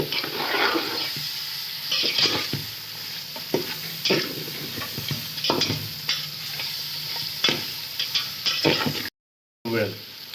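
Tomatoes fry in a pan for chicken curry while being stirred, a continuous soft sizzle broken by scraping strokes of the spoon, with a voice talking now and then and a brief dropout near the end.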